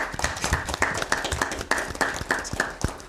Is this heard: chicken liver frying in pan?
no